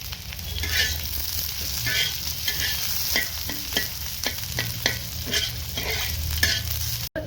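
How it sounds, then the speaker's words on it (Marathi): Onion frying in oil in a pan over a wood-fired stove, a steady close sizzle broken by repeated scraping stirs throughout, with no voices. "तव्यामध्ये तेल घातल्यानंतर आधी मस्तपैकी आपण कांदा फ्राय करून घेणार आहोत"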